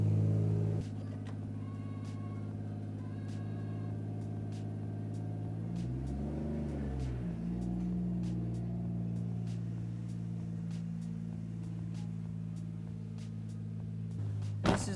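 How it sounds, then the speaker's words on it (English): Low, steady idle rumble of a Toyota Supra MK4 engine close by, with a brief swell in the middle and a small click near the end. "I wish the car wasn't so loud so I could hear more"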